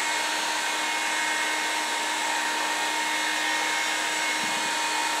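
Loud, steady blowing hum of a heat gun aimed at a dirty pour paint finish on a traffic cone orchid pot, running continuously up close with no speech.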